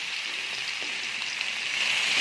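Spinach dropped into hot oil with dried red chilies for a Bengali spinach dish, giving a steady, close broadband sizzle like light rain that swells slightly toward the end, with no talk.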